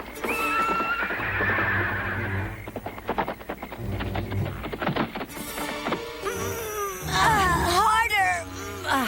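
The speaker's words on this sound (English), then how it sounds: "That horse whinny sounds like it's coming from where Oscar's being kept." A horse whinnies and neighs in an animated adventure scene, shrill rising and falling calls opening and closing the passage, with hoof clatter and other animal noises in between and voices talking over parts of it.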